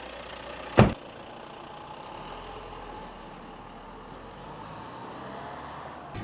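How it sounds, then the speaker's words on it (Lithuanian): A car engine cranks with one loud, sharp burst near the start, then settles into a steady, low idle that runs on evenly to the end. "Bolidas užsivedinėjo."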